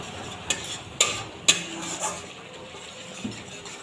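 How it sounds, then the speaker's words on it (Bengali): Masala with Kashmiri chilli powder sautéed in a pan for doi katla, soft frying hiss punctuated by three sharp spoon scrapes and knocks at even intervals, then quieter stirring. "এক চামচ কাশ্মীরি লঙ্কার গুঁড়ো দেবো যেটা দিয়ে কালারটা বেশ সুন্দর আসবে আরও কিছুক্ষণ আমি কষিয়ে নেব"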